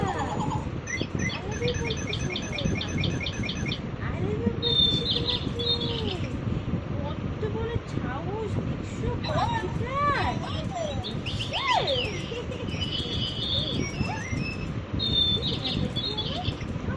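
Small caged birds chirp and tweet in quick high bursts throughout, with occasional fluttering, near and fairly constant while people talk softly in the room beside a baby.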